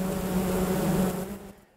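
A dense swarm of bees buzzes steadily and loud in the open air during a stretch of dry, mild spring weather, a continuous drone that fades out near the end.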